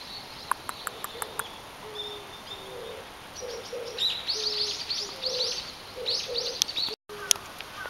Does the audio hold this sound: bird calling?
yes